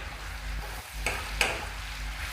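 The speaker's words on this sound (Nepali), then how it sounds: "अब यो प्याज र मासुलाई चाहिँ सँगसँगै खर्याउनु होला" Finely chopped onion and meat fry together in a pan while being stirred, a low steady sizzle with a couple of sharp scrapes of the spoon against the metal, close and moderately quiet, no talking.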